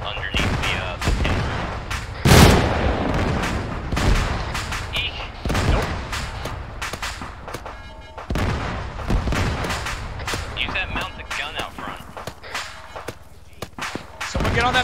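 Incoming artillery strike in ArmA 3, with heavy booming impacts and bursts of gunfire landing at varying distances in a military firefight, while voices talk over the blasts.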